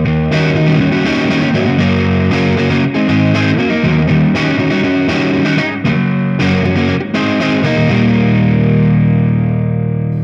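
Distorted electric guitar through a PRS HDRX20 amplifier with the bass cranked, loud sustained chords and riffs ringing out with heavy saturation, then a final chord left to decay.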